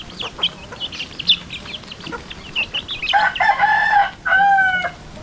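Farmyard chickens and a rooster: scattered clucks and bird calls give way to a loud, close cock-a-doodle-doo crow in two strong bursts near the end, with no talk over it.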